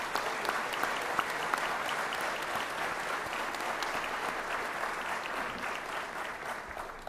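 Sustained, dense applause from a luncheon audience honoring award recipients at a hurricane conference awards ceremony, steady and full throughout with no gaps.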